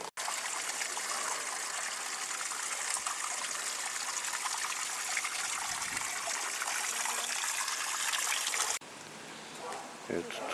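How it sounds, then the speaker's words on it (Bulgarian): Water from a small village fountain by a forest path in Bulgaria pours in a steady, close, hissing trickle that changes slightly near the end. "Е, тук е друга чешмичка."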